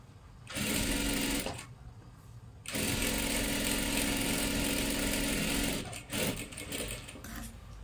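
A sewing machine runs in two long, steady stitching bursts with short pauses between, double-stitching tucks on a kurti, close and loud with no talking.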